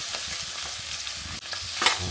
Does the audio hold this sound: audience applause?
no